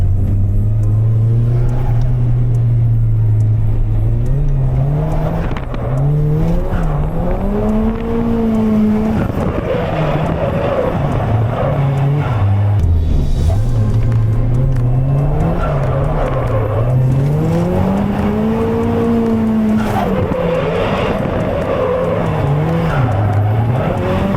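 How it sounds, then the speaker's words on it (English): A car drifting in Japan, with the engine revving up and down in long, wavering sweeps and tires squealing and skidding throughout, loud and close with no speech. "Let's go get some more, do some more drifting."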